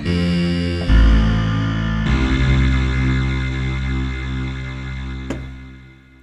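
A Roland D-05 synthesizer plays an electric bass PCM loop through distortion and chorus effects, giving sustained, buzzy, harmonically rich tones that shift pitch in a few steps, with a sharp click near the end and no talking.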